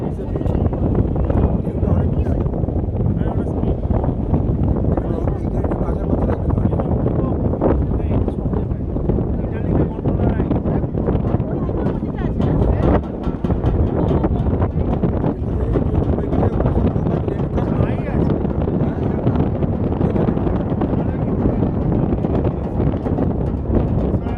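Strong wind sweeps across the open water at Maithon Dam, a loud, steady broadband roar buffeting the microphone for the whole stretch, with voices faintly mixed underneath.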